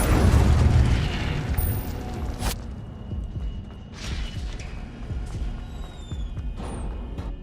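A deep, booming burst of the Incendio fire spell in the Hogwarts Legacy video game, loud at first and then trailing into a rumbling crackle with softer whooshing flares over several seconds.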